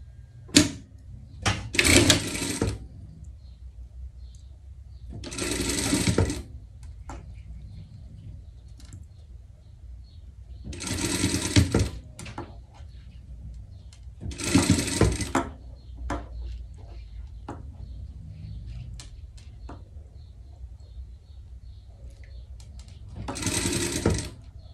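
Sewing machine stitching a sleeve onto a summer garment at the shoulder seam, in several loud bursts of rapid whirring of a few seconds each, separated by quieter pauses with small handling clicks.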